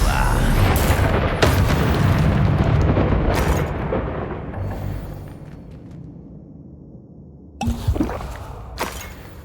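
A Confringo fire spell explodes in a Harry Potter video game, with a heavy low boom that rumbles and fades, followed by a second sharp burst near the end.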